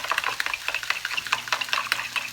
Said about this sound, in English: you just mix it until it's smooth, and this is your breakfast burrito sauce